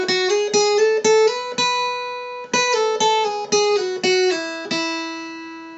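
Up close, a mountain dulcimer fretted with a noter runs a short scale up and down, the noter slid into each note just ahead of the beat, giving bright plucked tones with small sliding pitch changes and a long fading last note.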